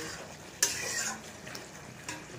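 Curry with taro and eggplant sautéed in a pan, a faint low hiss with a couple of brief scraping stirs, quiet and close.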